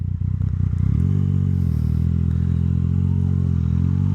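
A Yamaha MT-09 motorcycle with a full Akrapovic exhaust rumbles loud and close while riding, its engine note steady and throaty with some clattering at the start.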